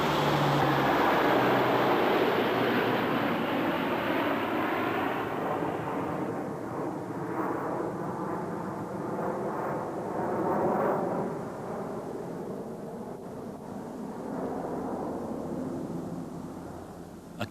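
A Lockheed Hercules transport aircraft in flight during a parachute load drop, its engines giving a loud, dense, continuous roar that eases slightly and steadies, with no voices.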